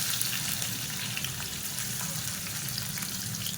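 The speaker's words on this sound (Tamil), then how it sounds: "எண்ணெய் சூடானதும் பெரிய வெங்காயம் நீளமாக நறுக்குனதை ஒரு 2 கை அளவுக்கு சேர்த்துக்கலாம்." Long-sliced large onions sizzling in hot oil in a cooking pan for a sambar, a steady, even frying hiss that holds without a break at moderate loudness, with no talking.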